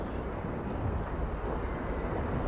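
The 1994 Laguna Beach wildfire firestorm roars with a dense, continuous rumble like a jet engine, steady and loud throughout with no breaks.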